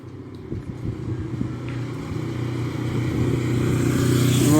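Motorcycle trailing a cycling race in Fourchambault, a steady engine drone that grows louder toward the end, under faint crowd and road noise.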